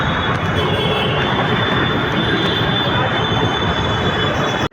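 Loud, steady roar of a metro train running on rails at Uttam Nagar West metro station in Delhi, with a constant rushing rumble and high metallic wheel noise throughout.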